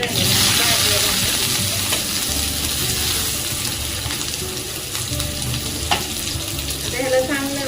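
Chopped onion sizzles as it goes into hot oil with toasted mustard seeds and cumin for an eggplant bharit, a steady close frying hiss with a few stirring clinks and no talk.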